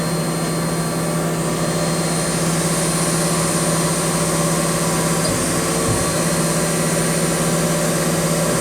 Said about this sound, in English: When it goes to face off, you'll hear it slow down and speed up with the x-axis.